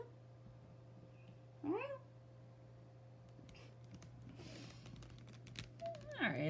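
A cat meows twice, once near the start and again at the end, moderately close, with a steady electrical hum and light tapping or shuffling between the calls.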